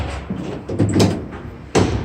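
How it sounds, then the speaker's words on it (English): Rear cargo doors of a 2017 Ford Transit T-250 high-top long-wheelbase van swing open with a few close metallic clunks and latch clicks, ending in a sharper knock. "These doors do swing out."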